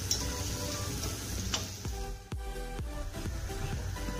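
Dahi vada lentil fritters deep frying in hot oil, a steady soft sizzle with a few sharp ladle taps and clinks over it, close by and with no talking.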